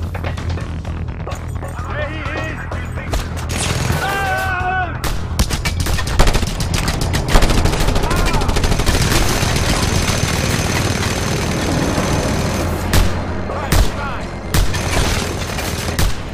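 Mounted gun firing in Just Cause 2 on PS3 during a stronghold takeover, loud rapid bursts of gunfire with booms and engine rumble, continuous sustained fire and short radio-like voices mixed in.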